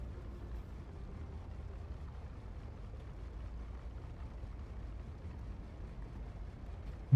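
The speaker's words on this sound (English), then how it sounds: "You hear that engine? That engine's not gonna handle fast." A low, steady spaceship engine drone from the Star Citizen game hums evenly and quietly throughout, with a brief bump at the very end.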